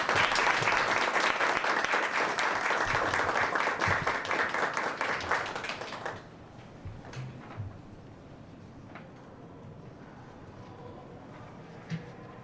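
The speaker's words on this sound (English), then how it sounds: "Now, please welcome Ms. Sandy Sugawara with a big round of applause." A loud crowd applauding with dense, steady clapping for about six seconds, which then dies away to scattered faint claps and quiet room noise.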